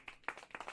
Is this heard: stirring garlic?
no